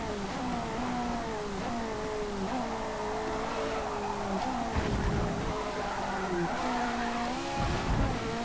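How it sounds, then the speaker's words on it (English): Ferrari 458 Italia with a 7-speed double clutch automatic gearbox in Forza Motorsport, its engine note climbing and dropping through several quick gear shifts with tire squeal, under steady background game noise. "that 7-speed double clutch automatic gearbox is really working wonders"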